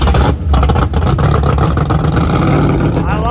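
A Duramax diesel engine in a truck roars close and loud, holding a steady, heavy rumble with slight rises in pitch, with a voice faintly under it.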